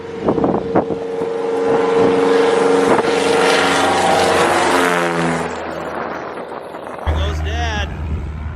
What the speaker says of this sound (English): Our plane has just landed, and it's time to get out there.